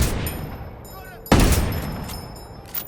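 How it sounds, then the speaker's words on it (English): Gunfire rings out in a Ghost Recon Wildlands firefight. A loud, sharp shot bursts out midway and trails off into echo, with a fainter shot near the end over background game noise and some voices. "I'm opening fire on these shitheads"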